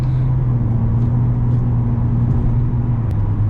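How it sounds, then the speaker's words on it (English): Nissan 350Z (Fairlady Z) with a stock, naturally aspirated V6 and automatic gearbox, heard from inside while driving: a steady low engine drone with road rumble, even and continuous throughout. "this is a naturally aspirated V6"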